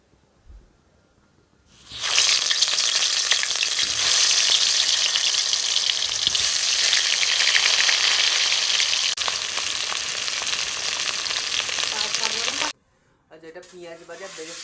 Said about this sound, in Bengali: তেল গরম করেছি এবার আমি আলুগুলো এক এক করে ভেজে তুলে রাখবো